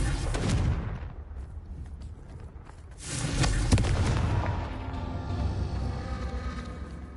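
A Confringo explosion spell cast in Hogwarts Legacy, booming blasts with a rumbling burst at the start and a second, longer explosive roar partway through, followed by a fading rumble.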